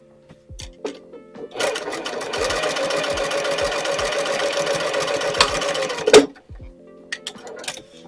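A sewing machine top stitching a towel dress topper runs in one steady sustained burst of rapid stitching for about four and a half seconds, ending in a sharp clunk, with quieter handling clicks before and after.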